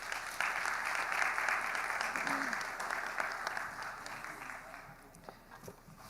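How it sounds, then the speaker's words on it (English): An audience at an economic forum applauds panelists in Ghana with sustained, dense clapping that fills the room and gradually thins out toward the end. "a round of applause for them"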